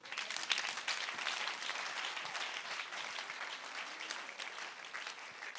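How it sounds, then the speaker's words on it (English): A church congregation claps together as an offering, a sustained, fairly quiet wash of many hands clapping through the whole stretch, with no talking over it. "Give the Lord a clap offering"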